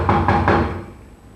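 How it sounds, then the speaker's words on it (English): Three quick knocks on a mansion's door, loud and close, with the last one fading into quiet. "Then he knocks on the door again."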